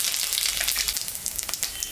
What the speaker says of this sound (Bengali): মাছ ভাজা তেলের উপরে শুকনো লঙ্কা জিরা আর তেজপাতা সম্বরা দিয়ে দিলাম